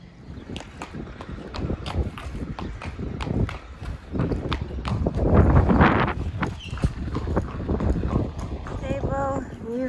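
Horses moving about at new stables with an outdoor terrace, hooves clip-clopping in irregular steps near and far while people talk over much of it.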